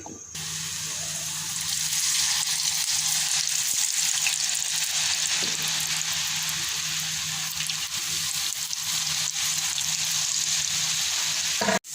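Steady crackling sizzle of french fries frying in hot oil, loud and continuous with no voices, ending abruptly.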